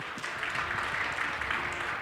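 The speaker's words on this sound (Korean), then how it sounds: "격려의 박수 보내주시면 고맙겠습니다." Seminar attendees clap for the presenters at the close of a medical network seminar, an even patter of applause from a modest room, moderately quiet and steady throughout.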